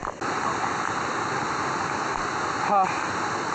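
A constant rushing roar of falling water from a waterfall at a trail crossing, in monsoon rain in Maharashtra, fills the scene, with a brief voice cutting in near the end.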